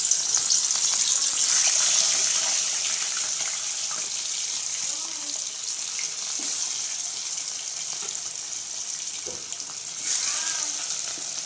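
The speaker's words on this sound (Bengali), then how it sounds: "তেলটা গরম হলেই আমি মাছটাকে ছেড়ে দেবো।" Katla fish pieces fry lightly in hot oil for doi katla, giving a steady, close sizzling hiss that eases slightly and then flares again near the end.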